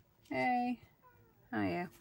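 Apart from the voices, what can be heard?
Persian cat meowing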